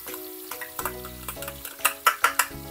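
Pork shoulder and chopped garlic sizzle in a pan, a close, bright frying crackle broken by several sharp metallic scrapes and taps of a utensil stirring against the pan, with no speech.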